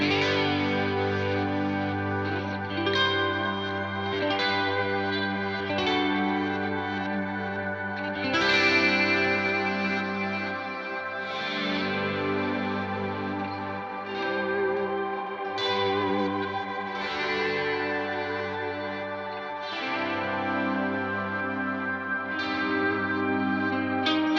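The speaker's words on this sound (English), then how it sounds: "on the second puff I'm using a shimmer reverb before the stereo delay" Electric guitar chords through a shimmer reverb pedal before a stereo delay, ringing out with a shimmering, octave-up reverb wash and spacious repeating echoes, sustained and loud throughout.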